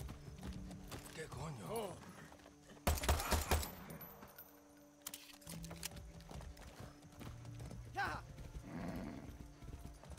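Rhythmic hoofbeats of a horse galloping in the video game Far Cry 6, with jangling tack and a whinny, steady and close under game sounds while someone talks over it.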